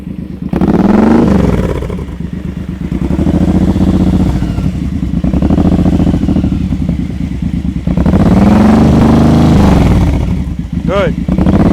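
A motorcycle engine at slow-speed riding practice revs up twice with a throttle blipper, loud and close, surging around the first and ninth seconds over a steady idle rumble.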